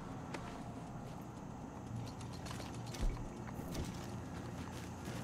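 Horse hooves clip-clop steadily in the Red Dead Online western game, a soft continuous rhythm low in the mix over a constant ambient bed, with one brief louder thump partway through.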